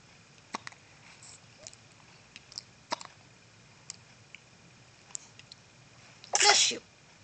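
A baby's single sharp sneeze near the end, loud and close, after a run of faint small clicks in a quiet room.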